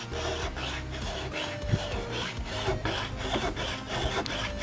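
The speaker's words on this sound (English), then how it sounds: "We're going to sand off just a little bit more." Sandpaper rubbing on a small plastic custom minifigure, a rhythmic back-and-forth rasping that is close and steady with brief pauses between strokes.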